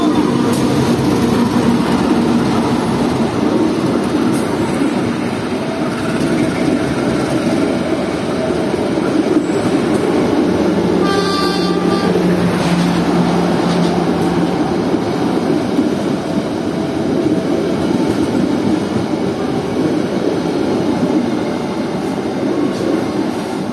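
The Pasundan train passing straight through a station on track 3 without stopping, a loud, continuous rumble of wheels and carriages heard from on board a nearby train, with a brief horn-like tone midway.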